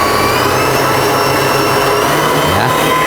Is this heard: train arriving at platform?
no